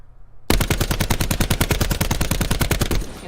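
An ICR rifle in the game Blackout fires a sustained full-auto burst of about three seconds, each sharp, loud report crackling close and evenly spaced after a brief quiet start.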